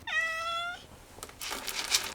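A cat living in a birch forest gives one clear, close meow, followed by fainter rustling and higher cat-like sounds a moment later.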